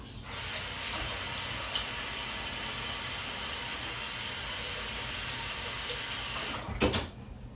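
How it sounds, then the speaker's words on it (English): A kitchen tap runs steadily during handwashing, a close, even hiss of flowing water lasting several seconds, ending with a brief splash and clatter as the flow is cut. "I gotta wash my hands again"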